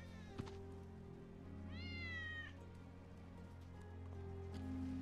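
Wedge's cat in Final Fantasy 7 Remake lets out a single clear meow midway. The meow sits over a low ambient game drone, with a soft thunk just before it.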